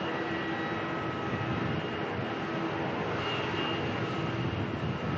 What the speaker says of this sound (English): Jetstar is departing now. This one's going off to Sydney.